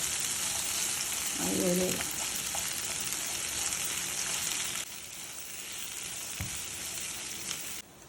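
Onions sauté in a hot pan for semiya upma, giving a steady, close sizzle with a brief scrape of stirring early on and the frying softening slightly partway through.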